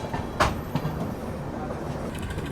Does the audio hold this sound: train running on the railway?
yes